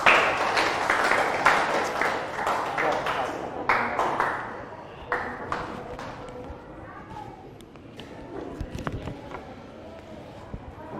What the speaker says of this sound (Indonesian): Kita kasih aplaus untuk kelompok.